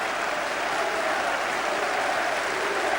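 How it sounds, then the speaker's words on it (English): Celtic fans applaud in a packed football ground after a 1992 match against Partick Thistle, a dense, steady wash of clapping that holds throughout. "Applause rings round the ground from the Celtic fans."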